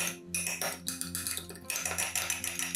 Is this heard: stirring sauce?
yes